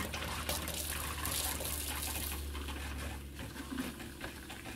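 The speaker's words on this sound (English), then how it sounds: "you will get some water still coming out of the lines" Water running and gushing out of a camper's plumbing lines as the valves are opened during winterizing, a steady broadband rush that eases slightly toward the end.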